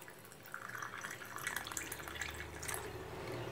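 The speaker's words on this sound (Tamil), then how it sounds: "இப்போ தண்ணி சேர்த்துக்கலாம்." Water is added to kulukki sarbath, a drink mixed with mint leaves and ice cubes, producing faint, quiet trickling and dripping for a few seconds with no talk.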